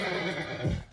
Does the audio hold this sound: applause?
no